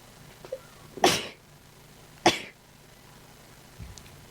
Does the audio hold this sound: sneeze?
yes